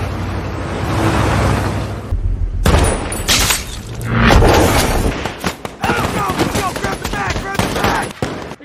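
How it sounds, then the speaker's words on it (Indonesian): Gunfire from a sniper rifle shot at a distant convoy in a war film, with booming reports and bursts of shots amid loud layered soundtrack and speech. "Mustafa sudah bersiap menembak konvoi mereka di kejauhan"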